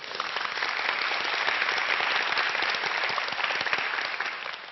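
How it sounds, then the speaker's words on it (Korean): Large audience applause at a Korean lecture-style talk event, dense and steady throughout, loud and close, with no voices over it. "너무 큰 박수 감사합니다"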